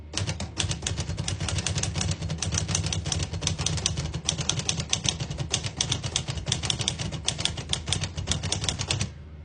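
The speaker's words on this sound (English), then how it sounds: "I'll type a sentence on the next line." Rapid, steady typing on a 1950 Olivetti Lettera 22 portable manual typewriter, with dense clacking keystrokes running continuously for several seconds before stopping abruptly near the end.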